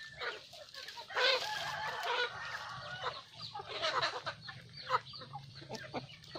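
Chickens cluck and squawk together at afternoon feeding time on a farm, a busy overlapping flock chatter that swells and dips steadily throughout, close by, with no talking.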